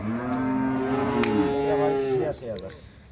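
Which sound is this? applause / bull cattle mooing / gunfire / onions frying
bull cattle mooing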